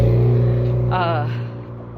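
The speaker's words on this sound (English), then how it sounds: "I'm letting this car pass" A car passes by on a road as a loud, steady low engine hum that gradually fades, while someone talks over it.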